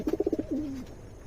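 Pigeon cooing close by, a quick series of five soft pulsing coos followed by a longer drawn-out gliding coo, clear and alone.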